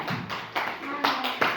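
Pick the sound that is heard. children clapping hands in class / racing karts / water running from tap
children clapping hands in class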